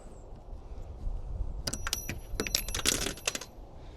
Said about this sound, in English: And I just lost my Allen wrench.